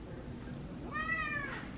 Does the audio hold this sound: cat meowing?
yes